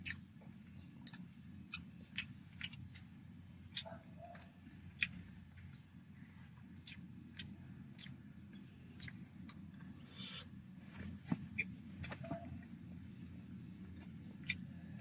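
Someone chews leftover lumpia shanghai with hotdog, no longer crispy, inside a parked vehicle, producing soft, irregular close-up clicks and mouth sounds over a low steady background hum.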